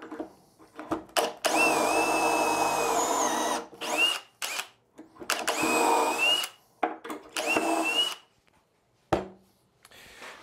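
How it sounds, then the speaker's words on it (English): Several bursts of a power drill whirring at high speed through construction lumber using a clamped jig, each several seconds long, with short pauses and clunks between holes. "Drill."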